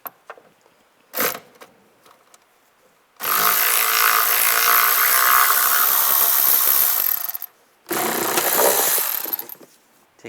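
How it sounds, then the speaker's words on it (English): Nuts come off a 2004-2010 BMW X3 during a leak detection pump replacement, driven by a 10 mm socket on a power tool: one short whir, then a long sustained run of several seconds, a brief pause, and another long run, all close and loud. "We'll take these nuts off, use a 10mm socket."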